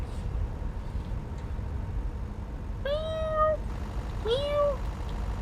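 A person imitates a cat, giving two drawn-out meows a second or so apart over a low steady background hum, with no other voices.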